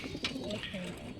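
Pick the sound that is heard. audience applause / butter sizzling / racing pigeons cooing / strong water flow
racing pigeons cooing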